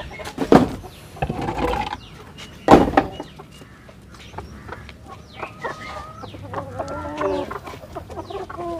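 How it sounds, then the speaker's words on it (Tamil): Country chickens and Kadaknath birds on an integrated farm cluck and call in overlapping bursts, with louder close calls early on and a busy stream of softer clucking and chatter through the rest. "இது பார்த்தோன்னா என்கிட்ட வந்து பார்த்தீங்கன்னா நாட்டுக்கோழிங்க, பெருவடையும் கடகநாத் சிறுவடையை காட்டுறேன்"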